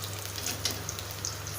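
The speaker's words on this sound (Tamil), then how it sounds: "நல்லா பொரிஞ்சிருச்சு" Slices of raw banana frying in hot oil, a dense, even sizzle with scattered small pops, close and steady throughout the short stretch, no voices.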